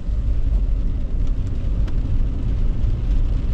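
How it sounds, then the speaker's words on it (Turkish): Kia Sorento converted to a 190 hp hybrid turbo, driving on the road with a steady, loud low engine and road rumble, heard from inside the car with no talking. "arabanın sesi de biraz değişti."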